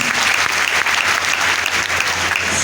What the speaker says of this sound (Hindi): जबरदस्त ताली बजाइए, जबरदस्त